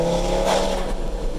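A Stage 3 Audi RS3 tuned past 700 hp roars under load, then a loud, drawn-out exhaust crack bursts out as the throttle lifts off, close up and without talk.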